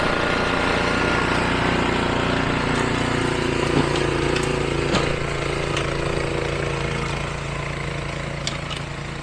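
An Ariens Pro 28 Hydro RapidTrak snow blower pushes through heavy wet snow with a frozen crust, its engine giving a steady, loud, continuous drone with a few faint clicks and scrapes and no talking.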